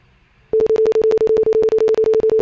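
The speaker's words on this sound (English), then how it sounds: "you should hear a simple sine wave tone coming out of your chosen output device" A loud steady sine test tone from Ableton Live pulses in rapid even beeps, starting abruptly after half a second of near silence and repeating continuously.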